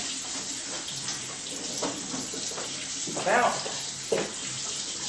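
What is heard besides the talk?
water running from a tap while rinsing hands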